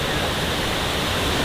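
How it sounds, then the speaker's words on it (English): Water from a mine rushes through a pipe, a loud, dense, unbroken roar heard close up. "All the water, you can actually feel it all rushing through this pipe."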